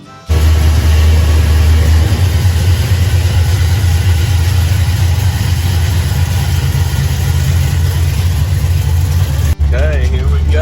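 A Ford Mustang street car's engine runs loud and steady with a deep low rumble throughout, cutting briefly near the end before resuming.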